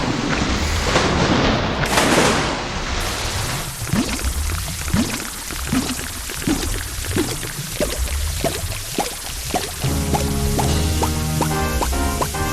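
Boss Gyorg in the Zelda game Majora's Mask dissolving into water, a loud sustained rush of splashing and pouring liquid with dripping bursts, ending in a bright chiming musical flourish.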